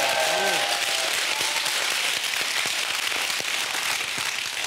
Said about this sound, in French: Bon, ben on peut l'applaudir déjà.